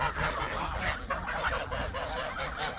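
A flock of geese honks and cackles continuously at close range, overlapping calls with a rumbling background.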